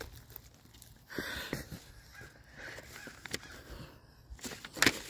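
Crows caw near a pond, several harsh calls spread out over a few seconds at moderate distance against outdoor background noise.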